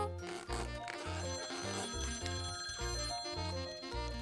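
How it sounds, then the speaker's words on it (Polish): A cartoon telephone rings in a repeated bright electronic pattern, loud and close, pulsing in a steady rhythm throughout with no voices over it. "a teraz dzwoni telefon"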